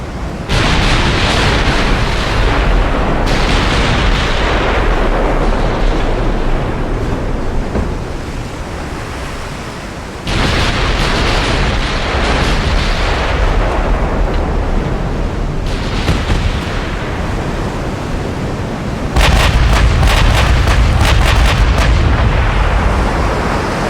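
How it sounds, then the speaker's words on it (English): Battleship gunfire and shell explosions in the naval warfare game Ultimate Admiral Dreadnoughts during a 1920 battle; loud, continuous roaring blasts with a rushing sea-like wash, a burst of rapid cracks near the end, no talk. "Salem's line is exchanging furious amounts of fire"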